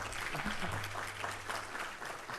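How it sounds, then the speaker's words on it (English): Audience clapping at a Chicago Park District budget meeting, a moderate, continuous patter of hands in a hall with a low steady hum beneath it and faint voices mixed in. "this is usually the only time I get a lot of rousing applause"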